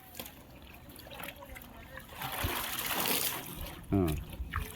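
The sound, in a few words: water splashing while washing a silk saree in a bucket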